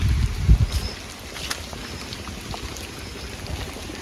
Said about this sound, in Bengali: নদীর পাড়ে আইলাম, নদীর পাড়ে দেখি বাতাস ভালোই।